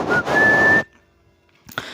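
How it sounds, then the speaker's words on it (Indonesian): A person whistles a clear, sustained note that is loud and close, with a short sliding rise at the start. It breaks off into near silence before a brief faint sound returns. "tiba-tiba dari kejauhan terdengar suara orang bersiul."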